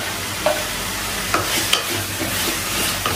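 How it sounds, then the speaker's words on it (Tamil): Onions sautéing in a pan, a dense continuous sizzle up close with a few soft stirring clinks breaking through. "நல்லா வெங்காயம் வதங்கிச்சுப்பா"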